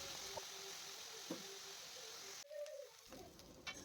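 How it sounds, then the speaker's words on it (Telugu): Ivy gourd (tindora) pieces fry in an uncovered pan over a medium flame while a spoon stirs them, making a steady, soft sizzling hiss with a few light scrapes and clinks. "ఫ్లేమ్‌ని మీడియంలో పెట్టుకొని మూత పెట్టకుండానే ఇలా స్పూన్‌తో కలుపుకుంటూ ఫ్రై చేసుకోవాలి."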